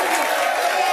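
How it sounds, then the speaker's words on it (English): A studio crowd on an ESPN First Take set roars in a dense, steady wash of many voices. The sound is loud and continuous, with no single voice standing out. "He's left the crowd chanting."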